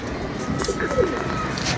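Pigeons, some flying and some perched, give soft intermittent coos against a steady outdoor background hiss, faint and fairly distant.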